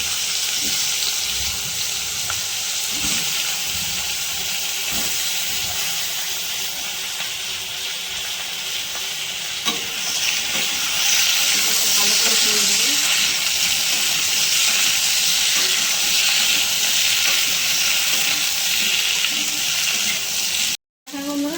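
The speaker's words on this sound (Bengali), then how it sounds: "এবার দেখুন ছেড়ে দিচ্ছি শালগম আর আলু।" Turnip and potato pieces dropped into hot oil for a fish curry, a loud continuous hiss and sizzle that intensifies partway through, with faint background clatter.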